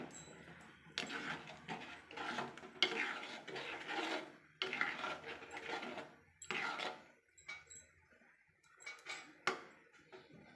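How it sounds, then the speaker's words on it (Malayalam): A spoon stirs sugar into mango pulissery in a pot, giving intermittent scraping and clinking bursts against the vessel, close and moderately quiet, with short pauses between strokes. "അതും കൂടെ ഇതിലേക്ക് ചേർത്ത് കൊടുത്തിട്ട് നന്നായിട്ട് മിക്സ് ചെയ്ത് കൊടുക്കാം."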